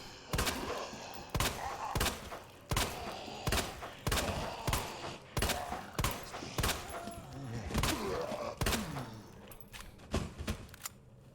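Repeated gunshots aimed at zombies in Resident Evil 2 Remake, a steady run of sharp single shots about a second apart under ambient game noise.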